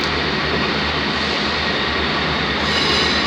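A Class 158 diesel train passes at Liverpool Lime Street station, giving a steady, loud, continuous rumble with broadband rail noise throughout.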